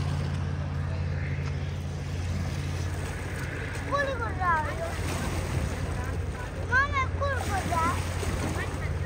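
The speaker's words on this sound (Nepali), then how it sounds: "यो छाल हो" Sea waves wash around a boat on open water, a steady broadband rush with wind buffeting the microphone, while people talk and call out over it.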